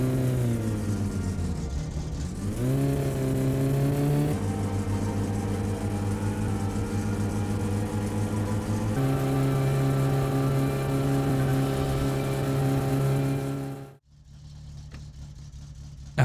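A tuned Satsuma car engine in My Summer Car revs hard and loud, dipping and climbing back before holding a steady high-pitched roar, then briefly cutting out near the end and resuming; no voices over it.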